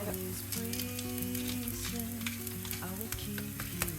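Cheese-topped food sizzles steadily in a covered frying pan, a continuous close crackle and hiss over a faint tonal background, with no talking.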